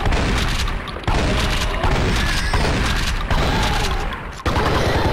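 Shotgun blasts in the game Blood and Bacon, four heavy booming shots spaced about a second apart, loud and close, each followed by a dense roaring tail, with no talking.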